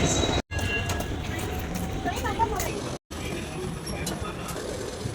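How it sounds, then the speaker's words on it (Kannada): A train standing at a railway platform at the end of a trek, a steady rumbling hum with station bustle and voices talking over it, broken by two brief dropouts. "ಟ್ರೈನ್ ಆಲ್ರೆಡಿ ಬಂದು ನಿಂತಿದೆ ನಮ್ಮದು"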